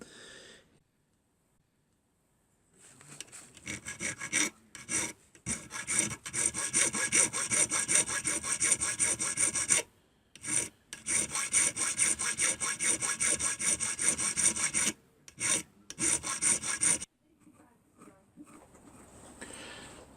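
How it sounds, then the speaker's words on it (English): Small hand file flattening the two faces of a wooden drawer handle clamped in a vise, rasping in bursts of steady back-and-forth strokes with a few short pauses, close and fairly loud, no talk. "just a very small file used to flatten the two faces"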